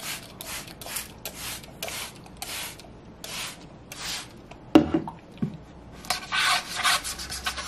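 A surface scrubbed with water in short, rhythmic rubbing strokes, a series of close scratchy swipes followed by a few louder wet squishes near the end.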